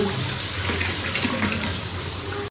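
Tap water runs steadily in a kitchen sink while hands are washed, a dense close splashing rush that stops abruptly at the end, with no talk.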